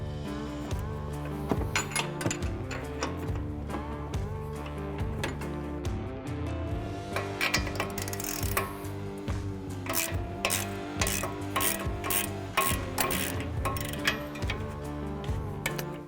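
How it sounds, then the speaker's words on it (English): Metal wrenches ratchet and clink while frame mount bolts on a Ranger's suspension are loosened, giving a rapid, uneven series of close ticks and clicks over a steady background of music. "we're going to use some wrenches here to turn those real quick"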